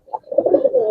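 Giribaz racer pigeons of a large breeding pair give a short, close, soft cooing call that swells into a continuous throaty warble, with no talking.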